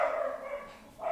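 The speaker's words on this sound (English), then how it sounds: "I don't know whether you can hear me too well over the dogs barking" Dogs bark outside with a single muffled, fairly faint bark, followed by a brief lull and a second yelp.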